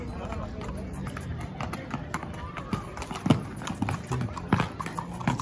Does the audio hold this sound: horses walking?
yes